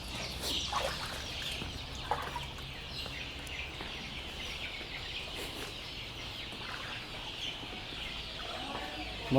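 Native chickens on a poultry farm clucking and calling steadily throughout, a busy flock murmur with a few louder close calls over constant farm background noise.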